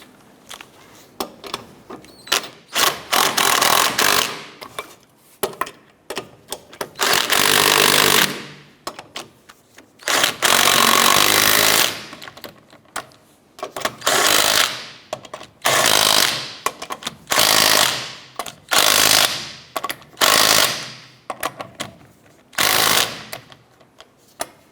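A power tool runs on the bolts of a 2006–2013 Chevrolet Impala rear strut and spring assembly, snugging them down in about a dozen loud, repeated bursts with short pauses between them.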